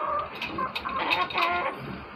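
Native backyard hens cluck and murmur close by in short, overlapping calls over about two seconds, with no speech.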